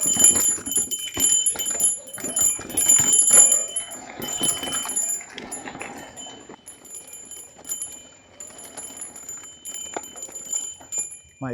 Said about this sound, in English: This is a timber bell. It is attached to the handlebar here.